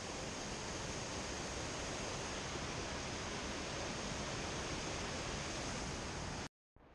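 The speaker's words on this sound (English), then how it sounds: "Look at the waterfall coming down." A waterfall pours down near the Lake Constance trailhead with a steady, dense, hissing roar. It cuts off abruptly just before the end.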